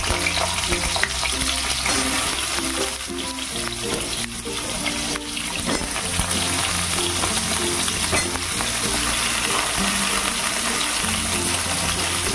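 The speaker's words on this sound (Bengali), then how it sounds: "এবারে আমি এই তেলের মধ্যে দিয়ে দেবো পটল।" Pointed gourd (potol), about 300 grams, frying in hot oil for a vegetarian potato and potol curry: a steady, loud, dense sizzle running throughout, with occasional stirring scrapes and no talking.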